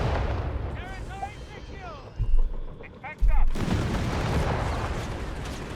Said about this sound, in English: Stuart firing away here